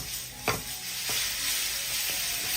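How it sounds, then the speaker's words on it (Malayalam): Beans and carrots fry in a pan and are stirred, with a steady sizzle throughout and a few short scraping strokes of the spoon near the start. "ഒന്ന് ഇളക്കി കൊടുക്കാം."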